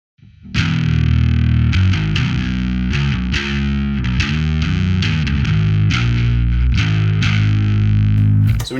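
Bass guitar played through an Audile TOAD bass overdrive pedal, a gritty distorted tone with a deep low end, struck in a steady sequence of punchy riffed notes, loud and close with no talking.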